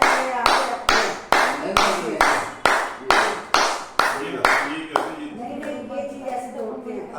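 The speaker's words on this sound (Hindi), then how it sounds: "5 मिनट ताली बजाने का, तेज तेज आवाज़ आनी चाहिए।" A person claps loudly as a clapping exercise, about a dozen sharp, evenly spaced claps followed by a looser stretch of quicker, softer clapping near the end.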